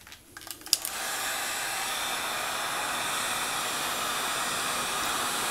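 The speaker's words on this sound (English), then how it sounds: "This is a paint stripper." After a click and brief rustle, a paint-stripper heat gun switches on to warm a chunk of brass and blows a loud, steady airy roar that continues unchanged.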